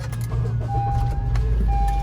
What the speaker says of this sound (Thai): เหยียบเบรกกดสตาร์ท